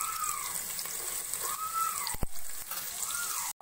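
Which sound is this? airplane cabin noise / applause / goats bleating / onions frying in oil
onions frying in oil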